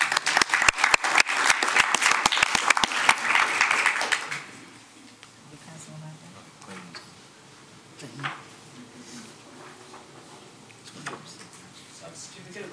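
An audience at a school district board meeting applauds in a dense, lively burst for about four seconds, then the clapping stops and the room falls to quiet murmurs and small knocks.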